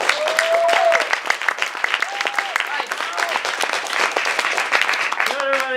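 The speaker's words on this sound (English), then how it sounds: "we should really have a round of applause." A crowd applauds at a Rubik's Cube competition awards ceremony, sustained dense clapping throughout, with a few tonal whistles or squeaks rising over it.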